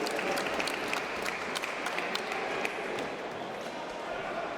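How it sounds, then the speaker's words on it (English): Sustained applause from a boxing audience for both fighters after a bout in the ring at an amateur box cup final, a steady dense patter of clapping filling the whole stretch with faint voices mixed in. "Can I ask you to give both boxers a big round of applause, please?"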